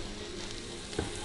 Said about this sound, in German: zum Schluss hat Stefan uns die Gyrospfanne angesetzt